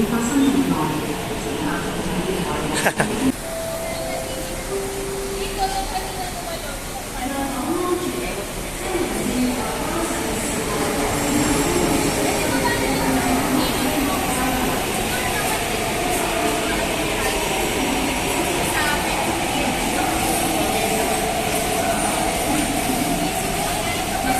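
A long, continuous rumble and rolling clatter of a train moving by, with a brief sharp clank early on and voices talking faintly underneath.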